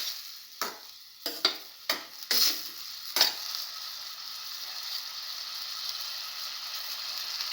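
A spoon knocking against a pan while stirring a cinnamon garlic mashed potato stir fry, several sharp clacks in the first few seconds over a faint steady sizzle that carries on alone.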